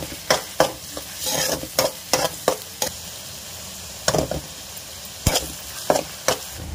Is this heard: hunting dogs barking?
no